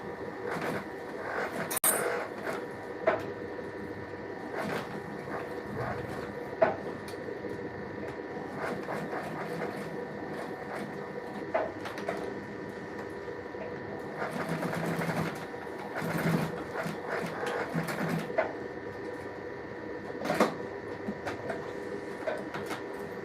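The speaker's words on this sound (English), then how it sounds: "So guys, I'm almost done with my stitching." Sewing machine stitching a shoe during shoemaking, a steady mechanical whir running throughout with brief clicks and louder bursts of stitching mid-clip, no talk.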